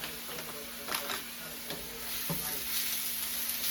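Eggs being scrambled and fried in a pan for fried rice, with a steady close sizzle and intermittent scraping strokes of a utensil against the pan.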